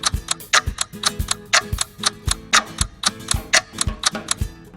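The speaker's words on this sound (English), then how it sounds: "The clock is ticking." A clock ticks as a countdown in a quiz: sharp, evenly paced clicks, loud and close, with no voices.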